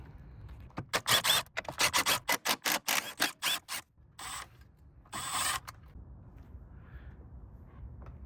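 A rapid run of sharp ratcheting clicks from a wrench removing 10 mm screws under the battery tray of a second-generation Nissan Rogue (T32), followed by a couple of short metallic scrapes and then quiet.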